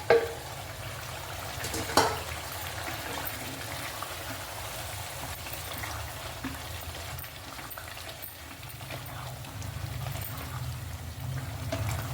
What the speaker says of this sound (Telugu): ఇప్పుడు మనం మసాలా కలిపిన మటన్ వేయాలండి.